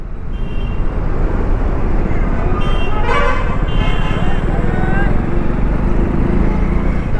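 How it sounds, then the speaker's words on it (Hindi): Dense road traffic on the Vadodara–Halol road in India, a steady loud roar of engines with car horns honking repeatedly, one horn standing out clearly midway, heard from close range on the move. "ओह व्हाट अ ट्रैफिक यार"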